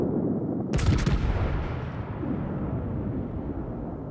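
Heavy battleship guns of the HMS Dreadnought, a British tier-3 premium battleship in World of Warships, fire in a sharp broadband blast that rolls into a long, loud rumbling boom fading over several seconds.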